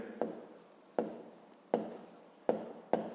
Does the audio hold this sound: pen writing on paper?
yes